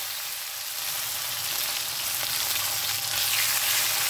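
Chopped tomato hits hot oil already fragrant with fried whole cumin, giving a steady, close sizzle with crackling hiss that holds evenly for a few seconds, with no voices.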